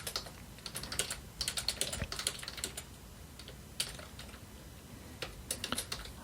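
Clusters of computer keyboard keystrokes typing commands into a Vim text editor, quick irregular bursts of clicks close up, with short pauses between runs and no talk.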